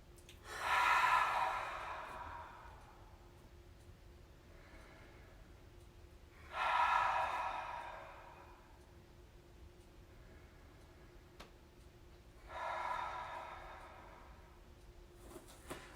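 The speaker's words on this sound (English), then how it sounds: "Cleansing breath." Three deep exhalations during a yoga class, each a loud airy breath about a second long, spaced roughly six seconds apart, alone against a quiet room hum.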